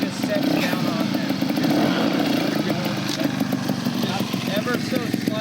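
A trials motorcycle engine runs close and loud, its throttle blipping and revving unevenly with a buzzing, rasping tone as the rider lifts into a slight wheelie, while someone talks over it.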